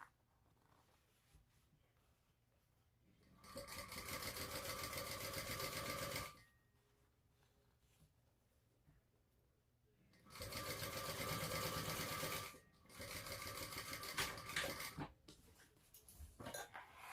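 Sewing machine top stitching a sling bag, three sustained runs of fast, even stitching separated by quieter pauses with faint handling noise, close and clear.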